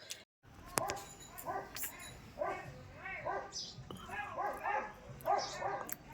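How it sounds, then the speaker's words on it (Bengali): A neighbour's dog barks and yips repeatedly in short, whimpering bursts at moderate distance, the calls tumbling one after another across the whole stretch. "পাশের বাড়ি কুকুরের ঘেউ"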